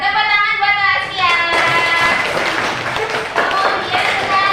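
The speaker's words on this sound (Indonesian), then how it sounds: "Tepuk tangan buat Asia." Classroom applause for a student during an Indonesian university teaching-practice lesson, a burst of loud, close clapping from children that follows the teacher's voice and persists under further speech.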